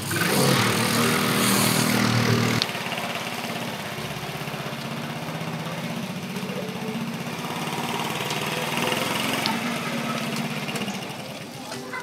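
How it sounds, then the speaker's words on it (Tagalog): A small motorcycle engine runs steadily at close range, loud and continuous with a sharp change early on, while people talk nearby. "Oh, motor na Intoy yan"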